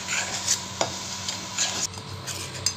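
A spoon stirs thickening sweetened milk in a pan, scraping the bottom and sides to keep the sugary mixture from sticking, with soft sizzling and repeated close metallic scrapes.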